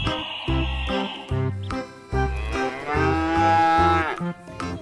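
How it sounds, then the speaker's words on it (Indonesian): A cow moos in several long, loud, drawn-out calls close by, over a rhythmic children's song in the background. "Wah, ada sapi gerandong"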